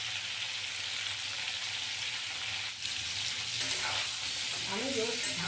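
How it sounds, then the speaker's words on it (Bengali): Pointed gourd (potol) frying in a pan over medium-low flame, a continuous even sizzle throughout, close and steady, with a brief stirring scrape and a faint clink late on. "একটু হাতে সময় নিয়ে পটলগুলো ভাজবো।"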